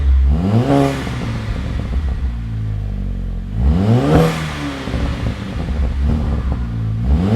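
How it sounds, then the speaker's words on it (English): A Volkswagen MK5 GTI with a newly finished exhaust revs repeatedly, each blip rising and falling over a steady, throaty idle, loud and close by. "He's gonna fire it up and then we're gonna see what it sounds like."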